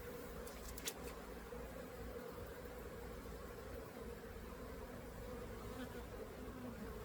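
Honey bees drone steadily in an open hive set back by small hive beetle, a dense, even buzz that fills the whole stretch at close range with no letup.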